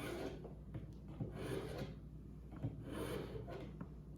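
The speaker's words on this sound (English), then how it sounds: "I do 3 on the medium, and that's to just kind of sharpen up the bevel a little bit" A kitchen knife drawn across a medium sharpening stone to touch up its bevel makes a few soft, quiet rasping swishes in a slow, even rhythm, close by with no talking.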